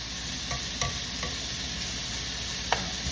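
Bacon frying in a pan, a dense steady hiss and crackle close by, with a few faint clicks of utensils against the pan.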